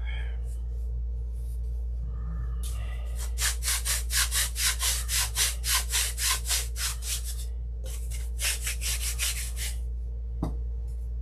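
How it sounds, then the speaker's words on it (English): Sandpaper scraped back and forth across the inside of a model airplane rudder on a Sig Magnum, a run of about a dozen even, rhythmic strokes close up, then a pause and a shorter second set, over a low steady hum. "I need to sand the inside of this rudder flat."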